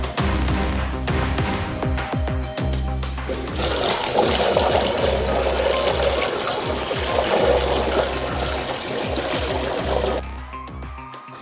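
Water gushes and pours continuously into a cobra's hole in the ground, a loud, close, turbulent rush with gurgling and splashing that cuts off abruptly near the end.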